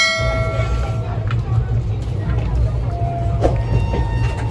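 A train rumbles steadily along the rails with a low continuous roar, a brief horn-like tone and faint clatter, voices faintly in the background, arriving at New Jalpaiguri station.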